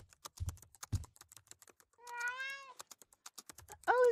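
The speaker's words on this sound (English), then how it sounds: "Oh, we got a cat." A cat meows clearly in a quiet room, a drawn-out call after scattered soft ticks and taps, followed by a second short, louder meow near the end.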